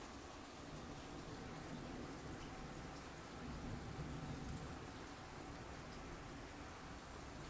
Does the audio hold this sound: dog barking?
no